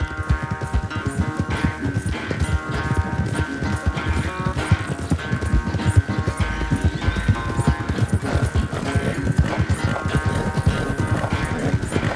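Horse hooves gallop in Red Dead Redemption 2, a dense, continuous drumming of rapid hoofbeats, loud and close throughout, over a steady low background with no talking.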